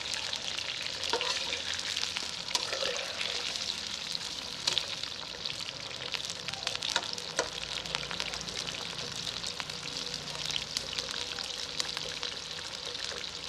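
Potato pieces for Afghani aloo karahi fry in hot oil in a pan, giving a dense, constant sizzle with scattered pops and crackles close up, with no talking.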